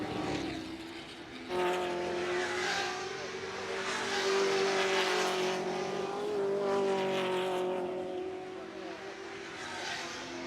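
Ford GT40 race cars at the Goodwood Revival's 2013 Whitsun Trophy thunder past, a loud sustained engine drone with rising and falling pitch as cars accelerate along the straight, fairly close.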